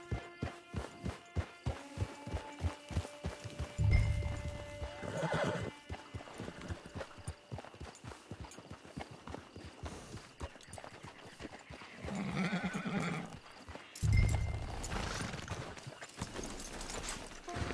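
Horse hooves clip-clop steadily and a horse whinnies loudly twice, near and prominent, in a PS4 video game scene at a camp, with no talk over it.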